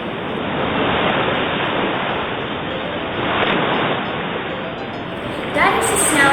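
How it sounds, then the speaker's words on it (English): Sea waves wash steadily in broadband surf noise that swells and recedes, fairly close and loud, with a brief brighter splash near the end. "That is the sound of sea waves."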